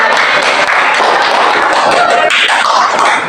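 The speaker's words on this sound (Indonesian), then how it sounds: "Tepuk tangan." An audience in a classroom claps for a student group's presentation, loud, dense and close, a steady burst of many hands clapping that keeps up without pause and drowns out everything else.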